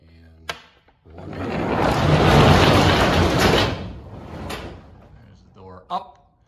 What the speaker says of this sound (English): I will show you the function of the door.